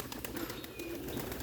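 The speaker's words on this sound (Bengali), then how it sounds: "এই যে সব কবুতর উড়াউড়ি করতেছে, দেখুন আপনারা" A flock of pigeons flies around close by, their wings flapping in quick, repeated bursts with faint chirps mixed in.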